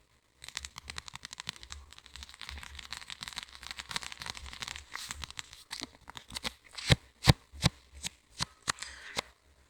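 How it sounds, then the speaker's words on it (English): Paper covering on a paperback book spine peeling away during a reading session, heard as a run of crisp tearing and crinkling rustles that turn into sharper, louder separate rips toward the end, close up with no voices. "It's a paperback, but the paper on the spine peeling away"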